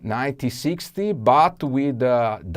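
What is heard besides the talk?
No everyday noises stand out.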